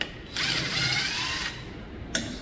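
A ratchet wrench loosens bolts on a 2017 Yamaha 9.9 outboard motor in a close, continuous run of fast clicking lasting about a second, followed by a short pause and a brief burst of further clicks.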